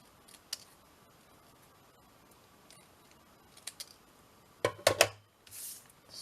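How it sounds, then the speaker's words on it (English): Scissors trimming small paper pieces for a paper clip craft: a few faint snips, then a cluster of sharper close cuts, followed by a soft rustle of paper. "And then just trim these pieces off."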